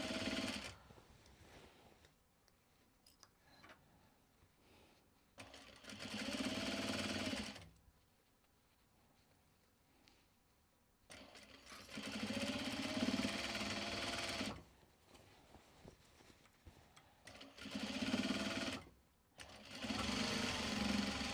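A sewing machine stitches Japanese fabric and leather in several loud mechanical bursts of a few seconds each, separated by quiet pauses with faint background noise.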